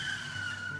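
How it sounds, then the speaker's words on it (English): Brief, steady tire skid in a visual novel game's random car crash scene, a sustained high squeal over a low engine hum lasting under a second, fairly loud and alone. "Just a random car crash."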